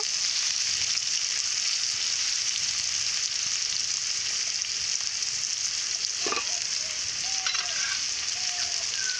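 Potatoes frying in oil in a pan without spices, a steady close sizzle holding at an even level throughout, with a couple of faint utensil taps near the end and no talk.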